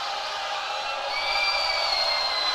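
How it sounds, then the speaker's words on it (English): A high school girls' basketball crowd roars loud and steady in the gym during a free throw, the cheering swelling toward the end. "Loud crowd."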